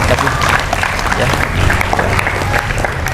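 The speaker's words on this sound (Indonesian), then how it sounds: "Tepuk tangan." Audience applause at a Thursday morning Islamic study gathering, a steady dense clapping wash lasting a few seconds, loud and continuous with some murmuring mixed in.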